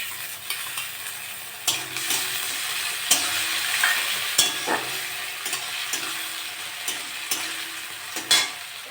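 Salted, turmeric-coated shrimp frying with lightly browned onions in a pan, a steady close sizzle broken by repeated sharp clacks and scrapes of a utensil stirring.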